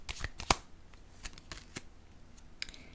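Tarot cards being handled and laid down on another card, making several light, sharp slaps and shuffling flicks, close and quiet.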